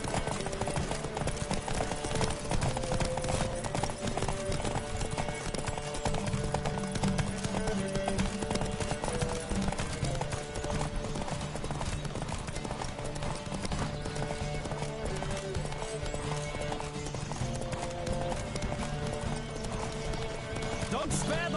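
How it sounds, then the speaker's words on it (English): Horse galloping in a race in the video game Witcher 3, with rapid continuous hoofbeats and an occasional whinny under a constant layer of game music and effects, steady and close. "Don't spare the horse!"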